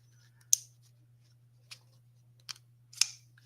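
A Cerakote-finished EDC folding pocket knife with a button lock is worked open and shut, giving four sharp, isolated metallic clicks spread over a few seconds against a quiet low hum.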